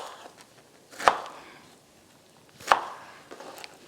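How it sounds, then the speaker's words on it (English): A knife chops strawberries into small pieces on a cutting board, with two distinct sharp thuds about a second and a half apart, close and otherwise quiet. "Just going to cut it up into smaller bits because we're going to cook it up before we puree it"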